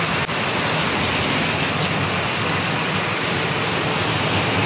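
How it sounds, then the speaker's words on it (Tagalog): Heavy rain pours down in a steady, dense roar during a stop on a ride at Montemaria, loud and unbroken with no voices. "inabot kami ng malakas na ulan"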